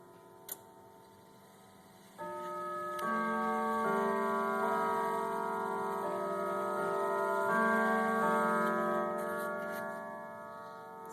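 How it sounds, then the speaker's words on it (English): Kieninger grandfather clock sounding the Westminster half-hour chime: after a couple of seconds of quiet ticking, a longer run of resonant bell notes begins and rings on, each tone blending into the next as they sustain. "Half-hour chime."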